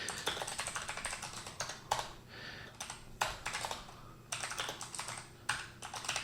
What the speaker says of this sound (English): To open a file, just type vim and then the name of the file